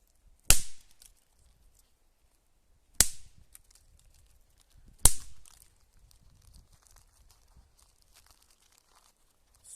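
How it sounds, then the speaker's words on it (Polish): Jorge Mini Boom firecrackers of the diabełki type going off outdoors: three sharp, loud bangs spaced a couple of seconds apart, each followed by faint crackling debris and near-silence. "strzelają jak to diabełki, szczerze. Kto by się spodziewał? Cztery naraz."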